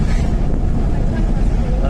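A cool wind blows hard across the microphone, giving a loud, constant low rumble and buffeting that masks most other sound throughout.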